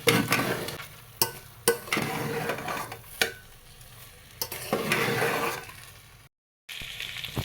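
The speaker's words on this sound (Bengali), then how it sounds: "চালটা খুব ভালো মতো ভেজে নেব।" Rice frying and being stirred in a pan for khichuri, steady sizzle broken by repeated scraping stirs of the spoon, close and fairly loud, with a brief silent gap near the end.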